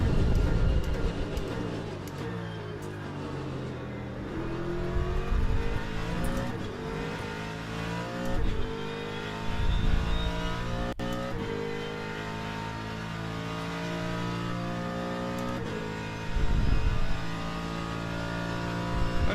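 Hypercar engine screaming around Le Mans in a racing video game, loud continuous revving with rising and falling pitch through gear changes, occasional tire squeal and other cars passing close by.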